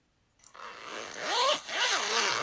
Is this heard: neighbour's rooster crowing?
no